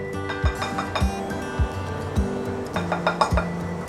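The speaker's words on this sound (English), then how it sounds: "Now I'm going to stir it to mix it." A spoon clinks repeatedly against a bowl while stirring baking powder into flour, sharp regular taps roughly every half second, close and clear with no voices.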